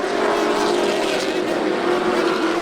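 Pro trucks race side by side out of turn four on the dirt track at Volusia Speedway Park, a loud, dense engine roar with droning, shifting pitch that fills the clip without a break.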